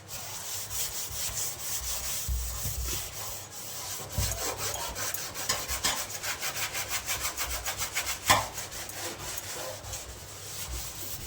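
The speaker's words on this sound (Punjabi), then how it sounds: "ਆਪਾਂ ਚੰਗੀ ਤਰ੍ਹਾਂ ਇਹਦੇ ਨਾਲ ਰਗੜ ਲਿਆ ਸਕਰਬਰ ਨਾਲ ਸਾਰਾ ਸਿੰਕ" A steel kitchen sink scrubbed hard with a scrubber, giving rapid back-and-forth rasping strokes that speed into a fast rhythm, close and fairly loud, with a sharp knock partway through and no speech.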